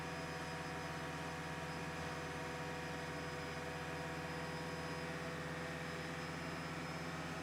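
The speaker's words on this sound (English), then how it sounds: "So as you can hear, the engine is running." A Toyota Prius engine runs steadily at idle during a check engine light diagnosis, a continuous low hum with faint broadband noise and no talk over it.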